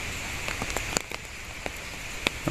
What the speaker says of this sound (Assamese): বৰষুণ দি আছে, মুঠতে পৰিৱেশ বেয়াই